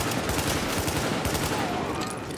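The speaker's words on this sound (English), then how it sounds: "Warning. Supplies taking fire." Rapid gunfire from a firefight in the video game Tom Clancy's The Division, a dense, continuous burst of overlapping shots filling the whole moment at steady loudness.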